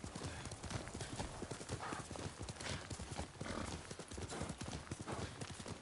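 A horse's hooves clip-clop in the video game Ghost of Tsushima, a steady rapid rhythm close by with an occasional whinny, continuous for several seconds at low level.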